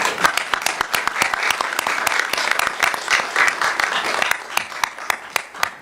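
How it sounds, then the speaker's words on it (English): An audience at a school board of education meeting claps after an ROTC color guard presentation, a sustained round of applause with sharp individual claps standing out nearby, thinning toward the end. "I think that deserves a round of applause."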